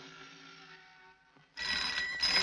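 An old-fashioned telephone rings in a Hindi love-story film, a bright bell that cuts in suddenly after a quieter musical passage and continues loudly to the end.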